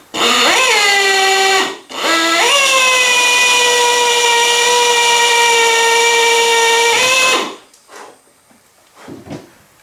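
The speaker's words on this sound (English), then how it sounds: "So you just really carefully line up with that hole and drill the rest of the rivet body in." A loud, close drill whines at high speed while drilling out a rivet, pauses briefly, then runs steadily for several seconds before spinning down, followed by faint handling clatter.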